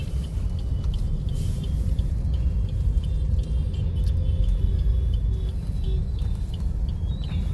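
Car driving on a city road from Rajkot toward Hirasar airport in morning traffic, giving a steady close cabin rumble with light rattles and faint bird calls outside, and no talking.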